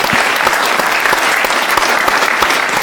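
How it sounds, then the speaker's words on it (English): An audience at a town question-time event in Wigan breaks into loud, sustained applause, a dense, even clatter of many hands filling the room with no speech. "Can I give Liz a round of applause?"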